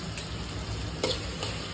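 Tomatoes with salt fry in a pan under a steady, fairly soft sizzle, with a couple of brief stirring scrapes and no voices.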